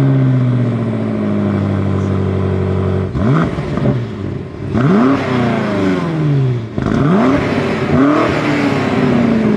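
A BMW M5 CS V8 rumbles at a steady idle, then pulls away in loud, close revving bursts, the pitch sweeping up through gear after gear with short dips between shifts.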